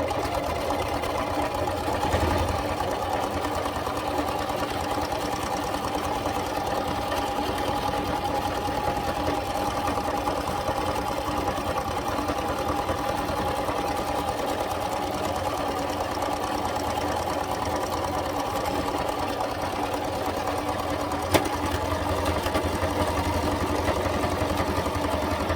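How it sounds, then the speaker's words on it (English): A sewing machine stitches a scarf into an infinity scarf, its motor running in a steady, continuous whir close by for the whole stretch, with a brief click near the end and no talking. "just start stitching"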